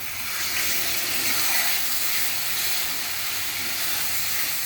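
Water poured into a hot cooking pan of pointed gourd curry gives a steady, loud hiss and sizzle lasting several seconds, with no talking.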